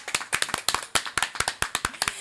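Scattered hand claps from a small, warm audience at a weekly Wednesday evening talent show, irregular and fairly close, with no voices over them.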